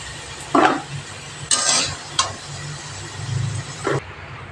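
Potatoes frying in hot oil in a pan, a low sizzle underneath with several short scraping stir strokes and clinks of a utensil against the pan, close and fairly loud.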